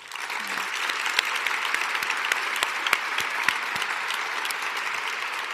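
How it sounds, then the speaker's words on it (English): A seated audience at a cyberbullying panel discussion breaks into sustained, even applause, a steady patter of many hands clapping together with little voice over it. "Please join me in applauding these amazing young adults."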